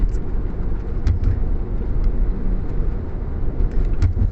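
A car cruising steadily down a road through a gorge in Alfred National Park, a continuous low engine and road rumble heard from inside the cabin with no talking.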